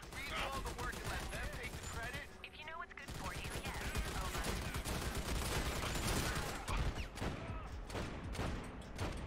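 Dense, continuous video game gunfire from Army of Two, rapid automatic shots rattling almost without a break for several seconds, loud and close, with speech mixed in among the shooting.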